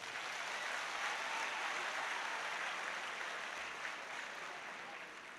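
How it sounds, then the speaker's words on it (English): A lecture hall audience gives a round of applause for a convocation lecturer, a dense, even wash of clapping that carries on steadily and fades slightly toward the end, with no voices over it. "I think she deserves another round of applause."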